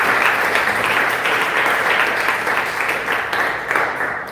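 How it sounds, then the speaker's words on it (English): Sustained applause from a seated audience at a live podcast-style seminar, steady and dense throughout, with no speech over it. "A round of applause for you guys."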